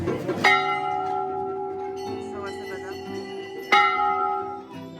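Metal temple bells at the Golu Devta temple, where bells hang in great numbers, ring out in two sharp strikes with long shimmering decays, while people talk nearby throughout.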